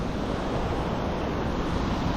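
Rushing water at a waterfall or dam-like spot at a swimming area in Sampaloc, Quezon, heard as a constant, loud broadband wash that stays steady throughout with no voices.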